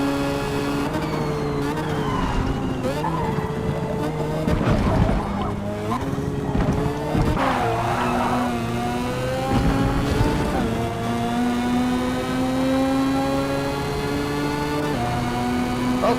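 Retro race cars on a circuit in a racing video game, engines whining and shifting pitch as they pass. A tire squeal sounds partway through under a steady engine drone.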